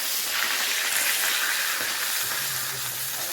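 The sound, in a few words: fish head frying in oil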